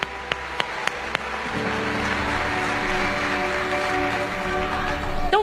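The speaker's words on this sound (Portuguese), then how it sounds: "Esse aplauso é para o Senhor Jesus" A church congregation breaks into sustained applause after a few sharp isolated claps, the clapping swelling into a steady, dense roar that fills the room and holds for several seconds.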